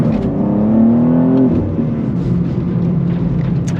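BMW G87 M2 with the S58 engine and a manual transmission accelerates hard, its loud engine note rising steadily through the first gear before a shift, then continuing to pull strongly with a steady roar, no talking.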